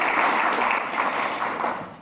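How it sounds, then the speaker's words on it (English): A full room applauds honorees and presenters at an awards ceremony for activists fighting child trafficking, a dense continuous wash of clapping that holds steady and eases slightly toward the end, with no voices. "So just one round of applause for our honorees and our presenters here today."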